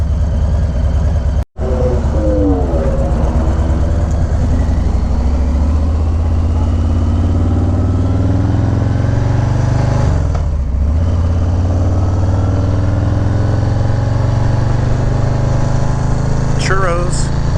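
A Harley-Davidson motorcycle with a Milwaukee-Eight 114 engine rides along the Pacific Coast Highway, its low, steady engine drone constant and close, with wind noise and someone talking over it.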